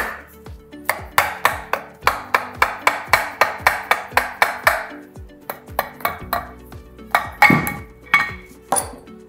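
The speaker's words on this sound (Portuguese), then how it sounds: "Com o auxílio de um martelo de neoprene, eu retiro a flange." A neoprene mallet taps the flange off a Yale pneumatic hoist during maintenance, with about twenty sharp, evenly paced knocks that carry a bright metallic clink, pausing briefly midway before a final burst of strikes.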